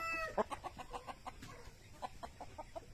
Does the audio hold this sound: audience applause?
no